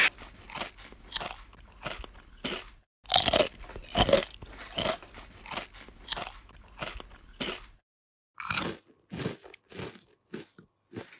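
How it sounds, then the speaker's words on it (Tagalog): Someone bites into crunchy lechon roast pork skin up close: loud, repeated brittle crunches and chewing in bursts, with short pauses between bites and no talk. "Balat pa lang ulam na. Malutong na malutong,"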